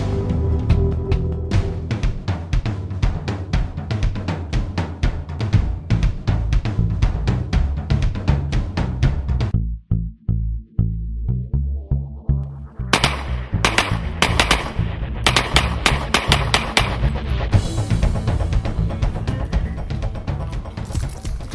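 Small handguns fired at a range in rapid strings of sharp, loud, close shots, with a brief pause midway before another fast volley of shots and ringing echoes.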